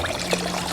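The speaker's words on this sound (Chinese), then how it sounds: "然后加入清水" Clean water pours into a stew pot holding pork heart, lotus seeds, dried longan and ginger slices, a brief close splashing gush under a steady low hum.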